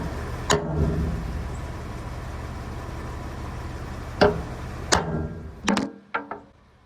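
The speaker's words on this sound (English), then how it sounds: "I'm just going to take a punch and go ahead and punch the new holes down" Sharp metallic hammer strikes ring out one at a time, then in a quicker cluster of four or five blows near the end, over a low background hum.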